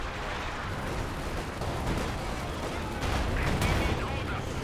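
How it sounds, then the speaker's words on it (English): Artillery barrage in the Company of Heroes 2 strategy game, a continuous rumbling wall of distant shell impacts and gunfire, dense and loud throughout with a slight swell toward the end. "They've got artillery barrage here as well."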